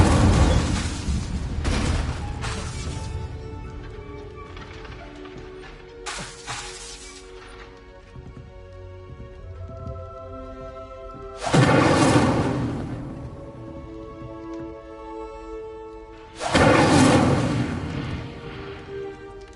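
Incendio fire spell cast in Hogwarts Legacy, heard as a few sharp bursting whooshes spread over the stretch, with tonal game music sustaining between them.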